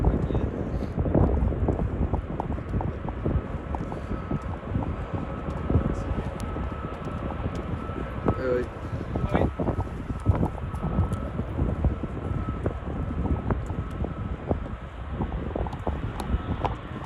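A Cathay Pacific A350 airliner passing at Schiphol airport, a steady broad jet roar heard from the ground at moderate distance, with wind buffeting the microphone throughout.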